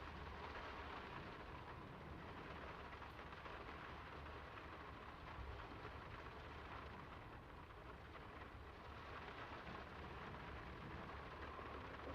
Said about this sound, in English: It's really coming down. How about a quick run in the rain?